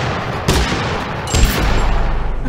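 Gunfire in the video game Totally Accurate Battlegrounds, a couple of loud, close bursts of shots followed by rapid, rattling fire, with no voices.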